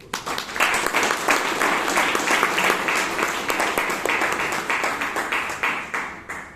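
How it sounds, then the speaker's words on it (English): An audience at a Toastmasters meeting breaks into loud, sustained applause, many hands clapping together in a dense, even wash that tapers off slightly at the end. "For a job well done, let us give a big round of applause"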